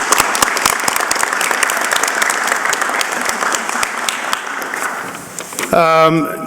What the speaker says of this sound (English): So cadets, please give a round of applause to your families for your support.